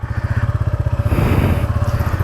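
A motorcycle loaded with luggage sets off on a road trip, its engine chugging in a fast, steady close-up beat that swells briefly as it revs and pulls away.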